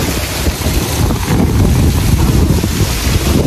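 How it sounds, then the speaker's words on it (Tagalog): Strong wind blows steadily outdoors by the water on an overcast day, roaring into the microphone with constant buffeting and rumble for the whole stretch, with no voices. "Medyo mahangin,"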